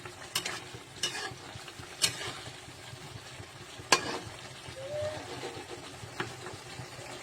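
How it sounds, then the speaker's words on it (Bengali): Spice masala frying in a pan, with a soft steady sizzle broken by a few sharp spoon or spatula scrapes and knocks, close and moderately quiet. "মশলাটা ভালো করে ভেজে নেব"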